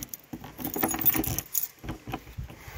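Keys jangle up close as a car is locked at a campsite, a few quick metallic rattles and clinks in short bursts over about three seconds with no talking.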